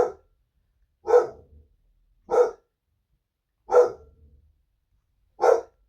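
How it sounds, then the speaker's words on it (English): A dog barks five times in single deep woofs spaced about a second apart, fairly close and loud, with silence between barks and no talking. "See, that's the dog barking, Lloyd Evans."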